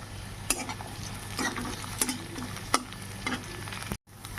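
Chopped onion, garlic and green chili fry in a pan for a jackfruit-seed bharta. A constant crackling sizzle is broken by regular scraping strokes of a spatula, with no talk until a sudden cut at the end.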